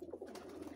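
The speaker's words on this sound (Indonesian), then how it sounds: "Ada kandang burung merpati" Soft, rolling coos from a flock of about fifty pigeons at a pigeon coop in a pine forest, a quiet run of repeated low calls heard close by.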